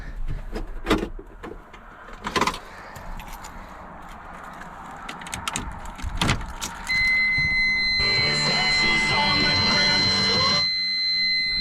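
Clicks and clunks, then a Sterling truck engine cranks in cold weather and catches into a steady loud idle with a high whine, close up.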